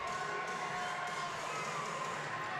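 A steady crowd roar fills a college gymnastics meet between BYU and SUU after a beam score, a dense wash of cheering and shouting with no clear voice above it.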